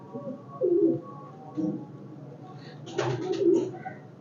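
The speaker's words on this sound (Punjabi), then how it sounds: "ਬਹੁਤ ਬਰੀਡਰ ਕਬੂਤਰ, ਚੰਗਾ ਕਬੂਤਰ ਹੈ ਜੀ" A breeder pigeon from a high-flying flock coos in short, soft, throaty phrases separated by pauses, with a louder rolling coo near the end, close by in a quiet setting.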